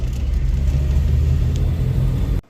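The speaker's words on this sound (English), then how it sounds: "sounds like a normal car instead of like an obnoxious machine now" A Jeep Comanche truck idles after floor pan repair, a steady low close-up engine rumble that cuts off abruptly near the end.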